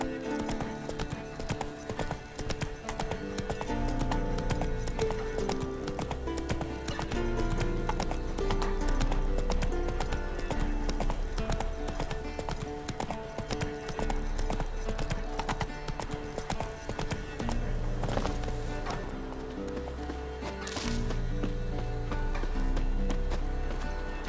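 Roach, the horse in The Witcher 3, gallops with steady clip-clop hoofbeats under a dense musical score, the hooves running continuously and fairly close throughout, with a brief whinny-like flourish near the end.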